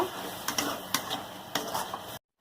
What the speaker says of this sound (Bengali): কেটে রাখা টমেটো দুটো, বেটে রাখা মশলার জল, দিয়ে ভালো করে মশলাটা কষিয়ে নেব